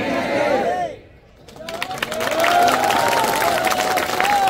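Crowd at a political rally in Khatora, Kolaras, applauding and cheering over loud amplified speech, with the clapping dipping briefly and then swelling again into a sustained, dense roar.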